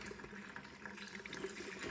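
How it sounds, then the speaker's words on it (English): Distilled water pouring steadily through the top of a dirt bike radiator during a coolant change, a continuous close splashing trickle with no talk. "We got our distilled water, so we're just gonna pour it through"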